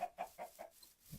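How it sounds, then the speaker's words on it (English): Chickens cluck in the Minecraft modpack FTB Unleashed, a short run of four or five quick, evenly spaced clucks followed by a softer low note, heard alone. "Chickens."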